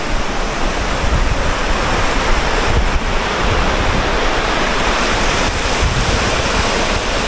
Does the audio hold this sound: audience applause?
no